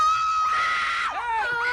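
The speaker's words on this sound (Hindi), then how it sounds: "उसे देखकर रूबी इतनी जोर से चिल्लाई कि खुद जेनिफर भी चिल्लाने लगी।" A woman's loud, sustained high-pitched scream of horror, a piercing cry lasting nearly two seconds with a wavering pitch drop partway through, heard close and alone in a horror film scene.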